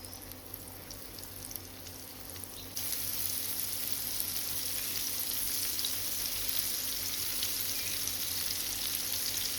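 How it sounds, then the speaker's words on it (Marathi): Squid rings coated in semolina fry in oil, a faint steady sizzle that suddenly grows brighter and fuller partway through, continuing as an even crackling hiss with no voices. "अशें करून हे सगळे रिंग्स फ्राय करूंक जाय."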